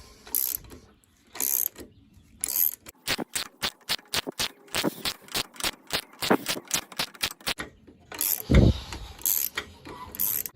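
A press tool drives a front upper control arm bushing into a 2012 Range Rover Sport SDV6 control arm, producing a rapid series of sharp mechanical ratcheting clicks in short bursts, close and fairly loud, with no talking.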